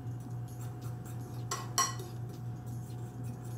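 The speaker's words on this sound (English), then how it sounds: "I'm gonna mix it all up." Pancake batter for bacon pancakes is stirred in a bowl with a utensil, giving two sharp clinks in quick succession against a steady low background hum.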